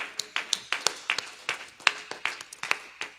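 A church congregation claps together in a steady, fairly quick rhythm to acclaim the Lord, about a dozen sharp claps at moderate volume with no voices over them.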